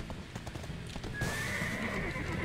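A horse whinnies loudly and its hooves clip-clop in the fantasy game Black Desert Online, the neigh rising sharply midway over steady hoofbeats and game ambience.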